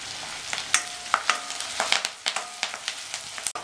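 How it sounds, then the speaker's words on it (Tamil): Onions, chilies, ginger and curry leaves sautéing in a pan for tomato upma: a soft background sizzle broken by repeated sharp spoon scrapes and taps against the pan, close up, with no voices. "வெங்காயம் டிரான்ஸ்பரண்ட்டாக வர வரைக்கும் வதக்கிக்கணும்"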